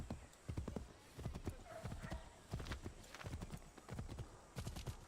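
Horse hooves clip-clop in a steady trotting rhythm in Assassin's Creed III, close and clear, with a brief whinny-like tone mixed in.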